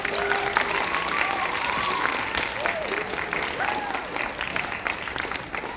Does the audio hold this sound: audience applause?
yes